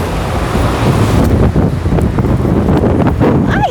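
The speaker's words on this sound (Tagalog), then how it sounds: "ay, malamig, mahangin." Strong, steady wind roars and buffets the microphone throughout, with a low rumbling gustiness and no clear talk.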